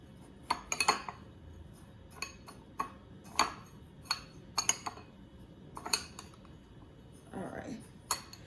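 Ingredients for vegan fried green tomatoes being stirred in a bowl, with a steady series of sharp clinks and taps of a utensil against the dish in an uneven rhythm, close and fairly quiet.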